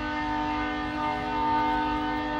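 Freight train with multiple locomotives, long hood forward on a shortline, passing close by with a steady loud drone of engine tones and rumbling, no voices.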